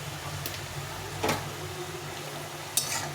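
Mustard greens are stirred and fried in a pan: a few brief, sharp spatula scrapes stand out over a faint, steady low sizzle.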